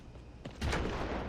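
Gunfire in the CrossfireX shooter video game, a faint, distant burst of shots with a muffled boom building at the end of the brief moment.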